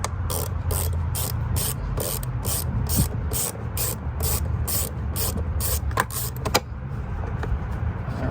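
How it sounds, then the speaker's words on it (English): Rapid ratchet clicks from a wrench loosening 10mm screws on a Lexus ES 300 during knock sensor work, coming in a steady run of close, sharp bursts with a faint engine-bay hum beneath and no talk. "I'm going to loosen both of these screws up and see where it comes off of."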